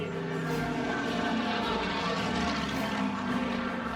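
A propeller airplane flies overhead, its engine droning steadily and fairly loud for the whole stretch, with no talk over it.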